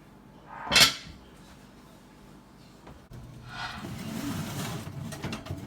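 A lid goes onto a baking pot holding no-knead sourdough bread: one sharp metallic clank up close, followed by quieter handling and rustling noises.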